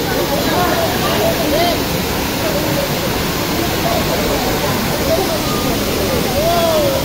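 Daranak Falls in Tanay, Rizal roars as a steady, loud, broadband rush of falling water, continuous throughout with faint crowd babble mixed beneath.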